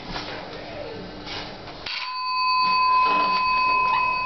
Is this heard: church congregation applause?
no